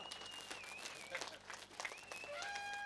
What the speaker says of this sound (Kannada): ಈತ ಜನ ಉಳ್ಳಾರ ಚಪ್ಪಾಳೆ ಈತನೇ ನಿಗಲಿ.